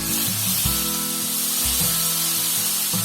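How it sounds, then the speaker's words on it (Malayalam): Sliced onions, with a small piece of tomato mixed in, sauté in hot oil in a pan for chicken rogan josh, giving a steady close sizzle with soft stirring scrapes throughout. "എന്നിട്ട് നമുക്ക് ഈ സവാള നന്നായിട്ടൊന്ന് വഴറ്റി കൊടുക്കാം"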